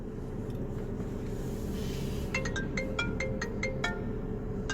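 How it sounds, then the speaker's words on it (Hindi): A phone ringtone chimes in a quick series of bright melodic notes, starting partway through over a steady low background hum, moderately close and without talk. "फिर किसका फोन आ गया?"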